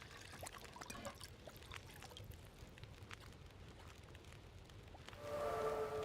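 Water pours steadily to make coffee in the game HallowLoper, a soft continuous trickling that grows fuller and louder over the last second.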